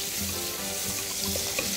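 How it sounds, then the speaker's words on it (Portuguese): Margarine or butter sizzles and fries steadily in a pan as the base for a white sauce, a close, continuous crackle with faint stirring and no talk. "Aqui na nossa panela, nós vamos começar colocando a margarina ou a manteiga"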